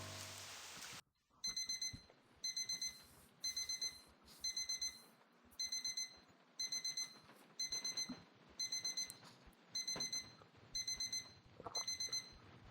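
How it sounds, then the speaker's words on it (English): Alarm clock beeping in a video game, rapid bursts of high electronic beeps repeating at a steady pace roughly every second, faint in the background. "I need to turn that damn alarm off. Its noise is ringing in my head."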